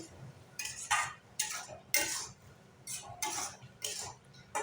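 A tomato and chilli curry being stirred in a pan, heard as quiet, separate clinks and scrapes of a spoon against the metal spaced about every half second over a faint low background.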